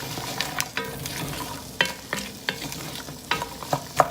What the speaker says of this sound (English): Give that a stir.